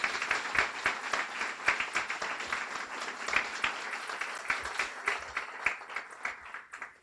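At a Guiding Eyes guide dog graduation, an audience gives a round of applause, a continuous moderate clapping with distinct individual claps, tapering off near the end.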